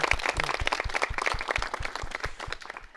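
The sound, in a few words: audience applause at radio broadcast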